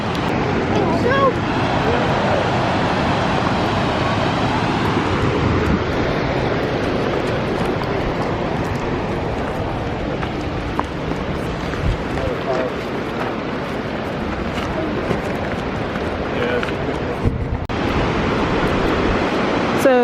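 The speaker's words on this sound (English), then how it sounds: "we can look right there and see the waterfall" Triple Falls in DuPont State Forest roars as a steady, broad rush of falling water, loud and continuous throughout, with people talking over it.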